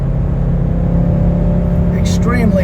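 A 1983 Mercedes 300D diesel kicks down a gear and accelerates at full throttle, a steady loud engine drone with a brief higher whine near the end, heard from inside the car.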